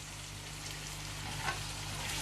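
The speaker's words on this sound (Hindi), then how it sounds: "मटर को अच्छी तरह से भून लेंगे" Peas frying with spices in a pan for matar pulao, a soft, even sizzle heard close and alone with a faint stir partway through.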